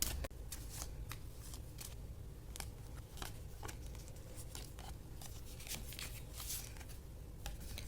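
A deck of tarot cards is shuffled by hand in a steady run of soft riffling and slapping card sounds, close and clear throughout, with no talking.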